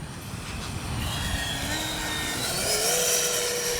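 A Freewing 70mm Yak 130 RC electric ducted-fan jet flies on a windy day, its high-pitched whine rising and shifting in pitch as it passes, sustained and fairly close, with wind noise.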